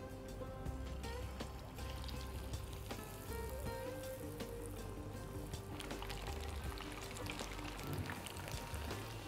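Cubes of paneer for Paneer 65 frying in hot oil make a soft, steady crackling sizzle that carries on evenly throughout, faint and unbroken, with no one talking.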